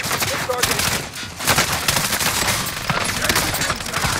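Video game gunfire rattles in rapid automatic bursts, dense and loud throughout, with players' voices talking over it.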